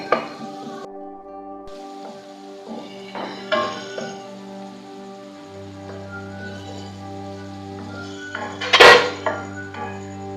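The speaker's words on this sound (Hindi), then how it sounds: "अब हम इसमें गोश्त ऐड कर रहे हैं।" Beef goes into a pot of cooked-down tomato masala while the meat gravy is being made. Utensils clink and scrape against the pot with soft stirring, and one sharp metallic clang comes near the end. Nobody speaks.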